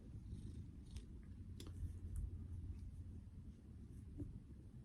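A cat purrs softly and close by in a steady low rumbling rhythm, with faint rustles.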